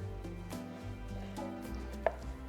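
A knife slices through an air-fried steak with soft, scraping cuts and one sharp click against the plate or board, close up and steady over a low background hum.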